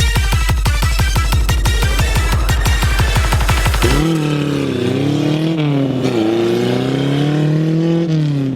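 A Suzuki LJ50 two-stroke engine runs loud and close, with a rapid, steady pulsing firing rhythm for about four seconds before shifting to a smoother, wavering revving drone.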